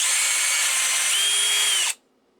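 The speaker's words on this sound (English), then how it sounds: "So I'm going to drill these out" A power drill bores holes out to 4 mm, a loud, steady, high-pitched whine that holds for about two seconds and then cuts off abruptly into silence.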